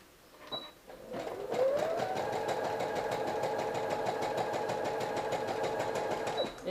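A sewing machine stitches a crop top or pencil skirt, backstitching and then running forward. Its fast, steady mechanical whirr with a rhythmic needle clatter ramps up, holds for several seconds and then stops, close and fairly quiet.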